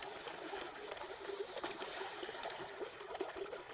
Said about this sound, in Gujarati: પાણી જાય છે જોઈ લો